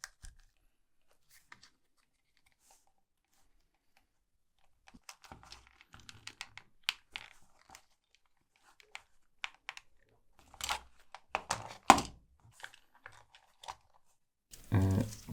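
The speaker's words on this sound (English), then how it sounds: "in order to get to the mainspring, we obviously have to disassemble the tape measure" A tape measure being taken apart to reach its mainspring gives scattered plastic clicks and snaps that build into denser cracking and prying near the end, close and otherwise quiet.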